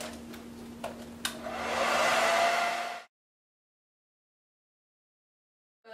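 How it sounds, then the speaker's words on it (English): A few clicks, then a hair dryer whirs up into a steady, loud blowing hum for a couple of seconds, drying a braided wig, before cutting off to silence. "I'm going to take the blow dryer and I'm just going to blow dry this."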